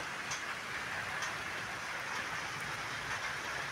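Rain falls in a steady, soft hiss, faint and even throughout, with a few light ticks and no voices.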